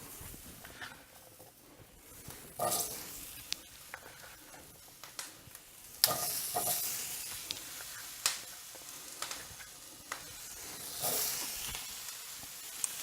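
Baby potatoes fry in a cast iron skillet with a soft, steady sizzle and scattered spitting pops, quiet and close, without voices.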